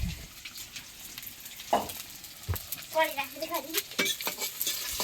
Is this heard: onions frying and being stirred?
yes